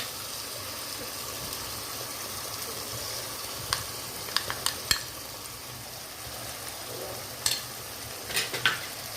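Masala being stirred into paneer curry in a pan of hot oil, a steady low sizzle under a handful of sharp spoon scrapes and clicks against the pan, close and fairly quiet, with no talking.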